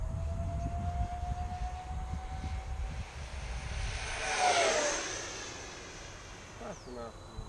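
An E-flite Su-30 RC jet model runs at full throttle, its ducted-fan whine sustained and swelling as it passes close around the middle, then fading with a falling pitch; voices talk near the end.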